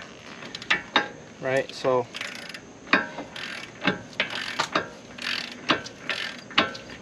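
Ratchet clicking in short bursts while tightening a wheel hub nut during wheel bearing installation, with someone talking between the rapid pawl clicks up close.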